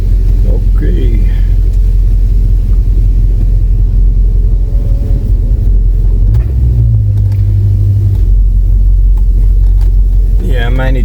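A car idling and pulling away with a noisy hydraulic power steering pump, a loud close low rumble and hum, with a voice speaking briefly over it.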